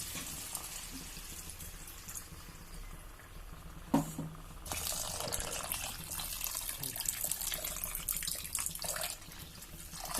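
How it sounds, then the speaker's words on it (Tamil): Water pours into a simmering makhana (lotus seed) curry in a kitchen pot, a steady liquid splashing that starts quietly, then swells into a fuller continuous pour after a brief knock, close by with no talking. "ஆட் பண்ணிட்டு நம்ம குழம்புக்கு எவ்வளோ தண்ணி தேவையோ அந்த அளவுக்கு தண்ணி ஆட் பண்ணிடலாங்க."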